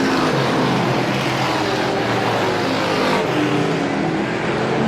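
Race cars roar steadily around the Star Speedway oval during a feature race, a dense, loud engine drone with a shifting pitch as cars pass close by, with no talk.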